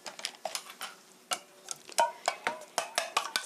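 Eggs with a half teaspoon of sea salt being beaten in a bowl to mix whites and yolks, a quick run of light clicking and tapping strokes of utensil against the bowl, close and fairly quiet, with no talking.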